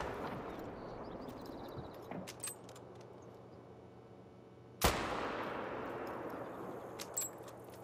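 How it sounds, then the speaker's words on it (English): Rifle shots ring out while hunting bison in theHunter: Call of the Wild, with one sharp loud crack standing out over quiet outdoor ambience, plus a few fainter clicks. "Pop a few bullets into it."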